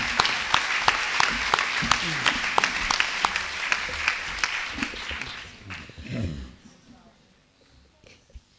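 Audience applause at an Italian talk on revolution, steady clapping with a few sharp individual claps standing out, then fading away toward the end as the room goes quiet.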